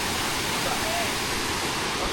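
Rushing white water at a hidden waterfall spot in Bacheli, a steady dense roar filling the whole stretch, loud and close, with no break.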